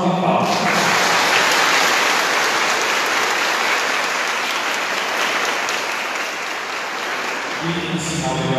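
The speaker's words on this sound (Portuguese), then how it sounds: "Agradecemos com uma salva de palmas" Sustained applause from the congregation at a Mass during the São José festivities, a dense wash of clapping that fills nearly the whole stretch before tapering off, with a voice speaking briefly at the start and end.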